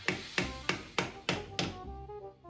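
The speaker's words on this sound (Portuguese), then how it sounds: "Eu vou meter o martelo aqui." A hammer strikes a wooden stingless bee hive box five times in an even rhythm, each blow sharp and close with a short ringing decay, and no one talks.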